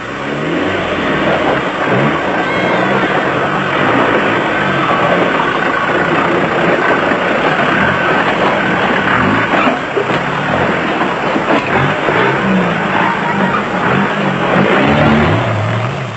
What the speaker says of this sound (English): The third-place Land Rover Turbo Diesel of Mike Redden and Wyatt Joseph found that a footful of throttle was the only way